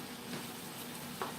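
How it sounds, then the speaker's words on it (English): A sloppy joe mixture of meat and sauce simmers in a pan with a quiet, even sizzle, and a single faint stir scrapes near the end. "got to give this a good stir and let this simmer"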